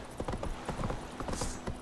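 A horse trotting in The Witcher 3, its hooves clip-clopping in a quick, even rhythm at close range, alone without talk.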